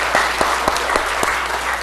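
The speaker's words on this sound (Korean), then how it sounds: "자, 박수." A church congregation applauds during Sunday worship, a steady wash of clapping with several sharper accented claps standing out, moderately loud and continuous without speech.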